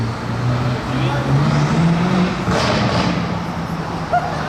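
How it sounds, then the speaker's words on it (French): A modified BMW M5 engine rumbles nearby on a Paris street with a deep exhaust note that swells as it passes, mixed with traffic noise and people talking. "Mais c'est quoi le bruit de cette M5?"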